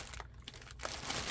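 A big bag of coffee-dyed paper is rummaged through close up, with continuous crinkling and rustling of sheets and no talk.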